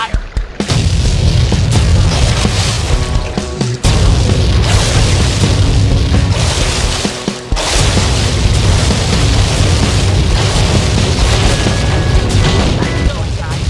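Cannon fire in the Sly Cooper 3 video game during a pirate boat battle, heavy repeated booms layered over dense continuous game sound effects and music, loud and close throughout, with in-game character voices mixed in.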